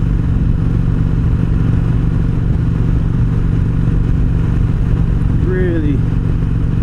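An Indian Roadmaster motorcycle cruising along a highway, its engine a steady, loud drone mixed with wind rush, with a rider talking over the ride.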